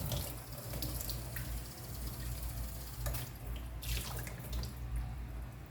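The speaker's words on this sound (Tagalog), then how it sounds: "Ngayon, hugasan mo. Last hugas na yan." Tap water runs steadily into a sink while squid is washed, a continuous close splashing flow with a few brief clatters and no talking.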